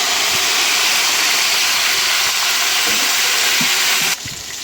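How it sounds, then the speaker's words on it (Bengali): Onions frying in a pan, a loud continuous sizzle and hiss that runs steadily before dropping off sharply near the end, with no talking. "পেঁয়াজটা আগে ভাজা নিলাম।"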